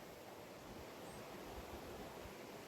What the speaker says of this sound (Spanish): Escuchen la cascada, el río que va bajando.